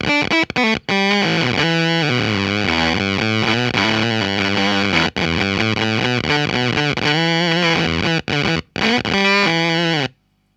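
An electric guitar played loud through a new pedalboard gives heavily distorted, shimmering chorus-like chords and held notes. There are a few sharp cut-outs, and the sound stops abruptly near the end.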